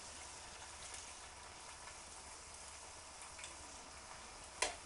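Battered onion rings frying in a pan give a faint, steady sizzle and crackle with a sharp clatter near the end, as if they are being turned.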